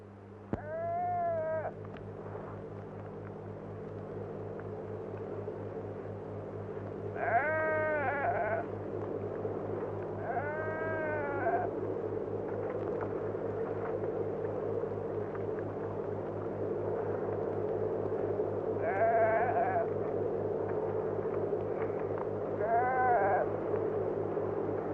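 A flock of sheep bleating in a Kuwaiti desert setting, scattered wavering bleats in separate bursts over a steady low droning hum, some loud and near, others fainter, with no talk.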